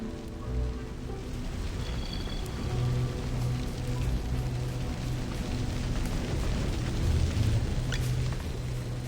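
A fire burns in the video game AFK Journey, giving a steady, dense crackling rush at moderate loudness with faint low tones underneath and no voices.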